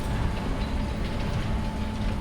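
A freight train in Farming Simulator 22 rumbles steadily, a continuous loud rolling drone with rail clatter throughout and no voices.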